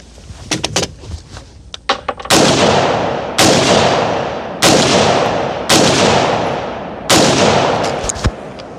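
AR pistol shots boom one at a time at a firing range, about six loud, sharp reports spaced roughly a second apart, each trailing into a long echo, after a few lighter clicks and knocks of handling.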